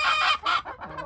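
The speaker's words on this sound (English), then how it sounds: "then we have all the Leghorns, the brown Leghorns and the light Sussex, and noisy lot" Brown Leghorn and light Sussex hens cluck in short bursts, close and fairly loud, with a few quick calls overlapping and no people talking.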